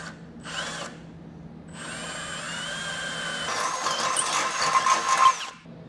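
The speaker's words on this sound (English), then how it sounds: "to drill that opening out" A power drill whirs in short and long bursts, its pitch rising and straining as it drills out an opening in metal during a base plate install on a 2024 Ford Escape, with a brief grinding screech near the end.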